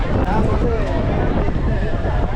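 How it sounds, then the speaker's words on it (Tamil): Gusty wind blows hard across the microphone over a lake as rain begins, with choppy waves slapping steadily and loudly throughout, a continuous broadband roar with no clear pauses. "ஸோ இவ்வளோ நேரம் சைலண்ட்டாக இருந்த ஏரி தண்ணி எவ்வளோ அலை அடிக்குது பாருங்கள்."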